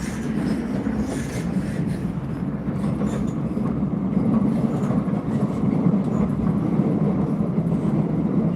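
A Loznica-to-Belgrade passenger train in Serbia rumbles along its rails with a continuous, heavy roar of wheels and carriage noise, growing slightly louder partway through, with no voices over it.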